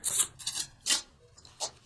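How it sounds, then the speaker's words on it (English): Tarot cards being shuffled by hand, several short crisp riffling bursts separated by brief gaps, close and moderately quiet, with no talking. "Okay, keep shuffling."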